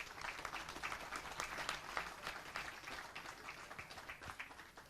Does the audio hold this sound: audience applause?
yes